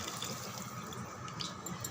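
Tamarind water pours steadily into a boiling pot of sambar, a soft continuous splashing and trickling heard up close, with no talking.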